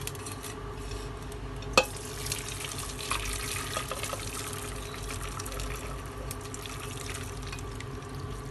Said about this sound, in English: So I'm going to strain my pasta with the help of a strainer.